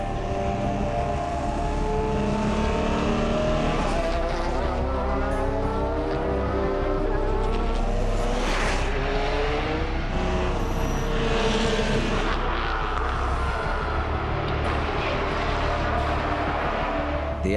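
An Audi race car at speed during the Le Mans 24 Hours, a loud sustained engine roar rising and falling as it passes, with shifting pitch and no talk over it.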